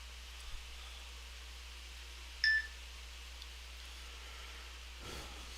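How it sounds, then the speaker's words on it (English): A single short electronic lightning-alert beep sounds once from a phone or weather device during a severe-weather stream, standing out briefly over a quiet background hiss. "You hear my lightning? Yeah, That beep."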